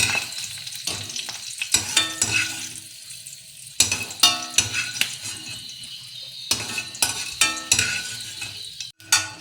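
Pirandai (adamant creeper) sautéing in an oiled pan for chutney, with a spoon stirring and scraping in irregular bursts over a low, steady sizzle.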